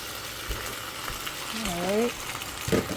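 Sauce is stirred into sizzling peppers in a pan for pepper steak, a continuous close sizzle with spoon scrapes and a short tonal squeak midway.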